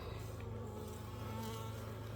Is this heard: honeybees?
yes